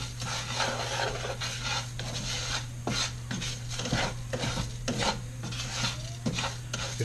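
Rice being stirred as it toasts in a cast iron pan for mushroom risotto, with steady scraping and rasping strokes and occasional sharper utensil knocks against the pan, close up and with no talk.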